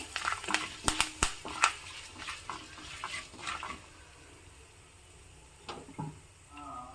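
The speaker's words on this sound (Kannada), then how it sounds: "ಚೆನ್ನಾಗಿ ಒಗ್ಗರಣೆ ಆಗ್ತಾ ಇದ್ದಾಗೆ ಕರಿಬೇವಿನ ಸೊಪ್ಪನ್ನು ಹಾಕಿದ್ದೀನಿ" Curry leaves dropped into hot oil for a traditional South Indian tempering with a pinch of asafoetida, giving a few sharp crackles and pops that fade into a quiet, low sizzle.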